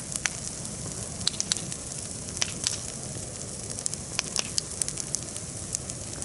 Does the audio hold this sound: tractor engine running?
no